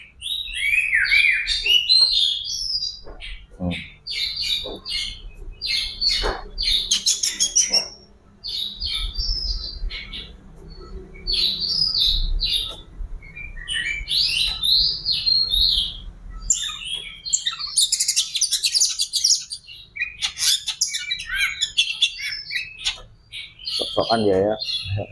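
A male oriental magpie-robin (kacer) not in breeding condition sings near the microphone, with bright, rapid chirps and warbled phrases repeating almost without pause while someone talks over the birdsong.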